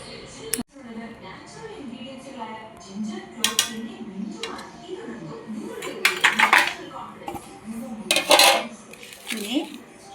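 A spoon clinks and scrapes against a pot while tempered mustard seeds are stirred into Kerala-style chicken curry, irregular metallic knocks with a couple of louder bursts, and people talk between them.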